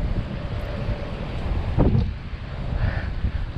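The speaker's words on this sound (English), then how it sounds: "Very windy." Strong coastal wind roars and buffets a helmet camera microphone on a bike ride along the beach path through Playa del Rey and El Segundo, a steady loud rush with no voices.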